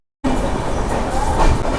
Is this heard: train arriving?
yes